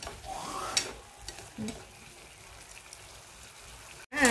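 Tofu and pickled mustard greens simmering down in a pan, a soft steady bubbling sizzle with faint stirring scrapes, quiet and close, ending with a brief louder clatter.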